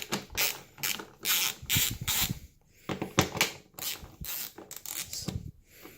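A Torx T25 driver loosening screws on the gas cap of a 2008 KTM 690 SMC motorcycle, several bursts of clicking ratchet-like mechanical noise separated by brief pauses, close and fairly clear, with no talk.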